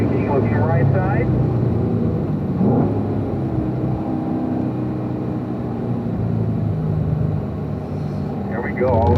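Car accelerating down a race track straight at a performance driving school, a steady engine drone rising under a voice talking near the start and end of the clip.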